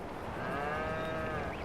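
A cow in Farming Simulator 22 lets out a single drawn-out moo, close and clear, with no talk over it.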